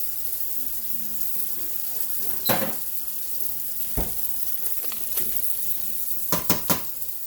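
A skillet gives a quiet steady sizzle, hissing up with butter for shrimp and vegetables, while a few sharp scrapes and knocks of a utensil stand out, close and without speech.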